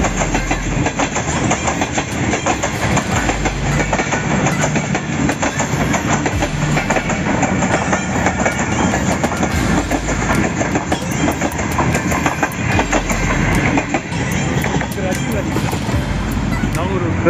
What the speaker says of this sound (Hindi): और ये ट्रेन गुजर रही है।